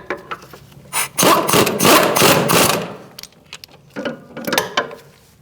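Ratchet clicking and mechanical turning while tightening bolts on the front CV axle of a 2008-2014 Mercedes-Benz C300 3.0L V6, in several close bursts with short pauses between them.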